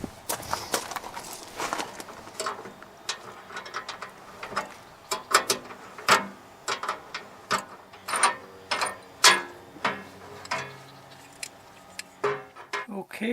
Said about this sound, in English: I just got to get a wrench and undo that